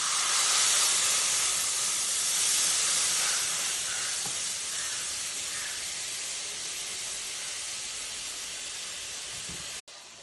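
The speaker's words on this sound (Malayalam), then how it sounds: "നമ്മൾ കുറച്ച് വറ്റൽമുളകും കരിവേപ്പും വെച്ചിട്ട് ചൂടാക്കിയിട്ടാണ് തേങ്ങ പാരുന്നത് കേട്ടോ." Loud, steady sizzling hiss as a coconut mixture is poured onto heated dried chillies and curry leaves for a sardine mango curry, fading gradually over about ten seconds before a sudden click.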